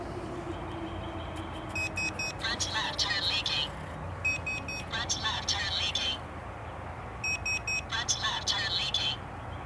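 Electronic beeping alert from an aftermarket TPMS tire pressure monitor warning of a front left tire leak after the valve cap is pulled off, sounding as three separate bursts of rapid high-pitched beeps over steady background noise.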